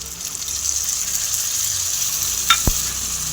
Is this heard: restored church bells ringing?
no